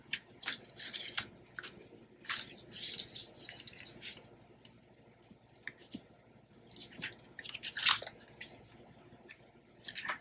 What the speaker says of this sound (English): use our hook tool, and start taking out tape